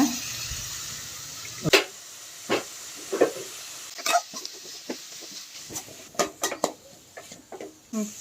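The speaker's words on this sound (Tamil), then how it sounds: "அப்புறம் 1 ஸ்பூன் சோயா சாஸ் ரெண்டையும் சேர்த்து நல்லா கலந்து விட்டுக்கோங்க." Tomato sauce and soy sauce are stirred into chicken fried rice in a pan: a faint hiss and sizzle runs under scattered, fairly close scrapes and clinks of a spatula against the pan.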